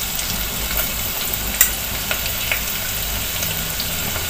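Garlic, chillies, curry leaves and asafoetida sizzling in hot oil for a tempering while Gujarati kadhi is being made, a steady close crackle with a few sharp pops throughout.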